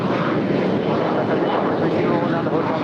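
An American Airlines jet at LAX rolls for takeoff, a loud, steady broadband engine roar that fills the whole clip with no break, a voice talking under it.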